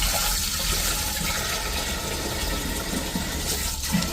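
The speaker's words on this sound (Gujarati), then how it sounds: "તો પહેલાં તો આપણે માટલું જો નવું હોય ને તો આ રીતે તમારે પાણીનું ભરી લેવાનું છે" Water rushes steadily into a new clay pot, a dense, continuous pouring and gurgling roar that fills the short stretch without pause or talk.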